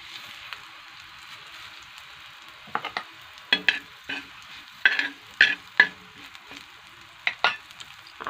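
Chillies, garlic and peanuts roasting in a pan with salt give a soft, steady sizzle, broken by several sharp scraping stirs of a utensil against the pan, close up with no talk.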